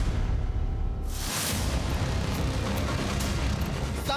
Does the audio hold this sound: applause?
no